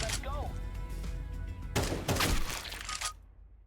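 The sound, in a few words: gunfire from bots in the video game CS2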